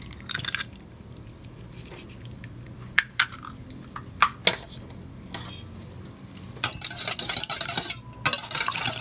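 Two eggs being mixed in a bowl for a whole-egg leche flan. Soft stirring and scraping continue throughout, with sharper clinks of a utensil against the bowl at scattered moments and a brisker run of mixing near the end.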